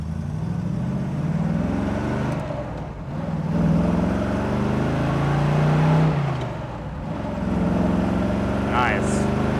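A 1968 Chevrolet Camaro SS-style convertible with a rebuilt, cammed V8 rumbles and revs with a choppy idle, its engine note rising and falling steadily close by, with a voice speaking over it.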